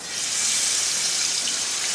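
Water pouring steadily into a mixing vessel while a chicken beetroot shawai marinade is prepared, a continuous close hissing splash with no breaks and no talk.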